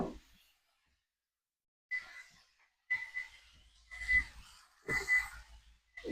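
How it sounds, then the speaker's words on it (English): Kitchen timer beeping in short repeated bursts, faint against a quiet kitchen background with soft clatter and a breathy voice-like sound between beeps. "So you can hear my timer going off."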